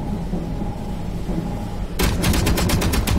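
Rapid automatic gunfire from an enemy ship in the space game Space Engineers erupts suddenly and loudly after quiet ambient hum, a steady stream of sharp repeated shots continuing to the end.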